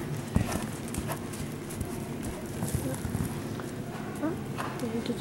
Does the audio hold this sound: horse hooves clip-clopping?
yes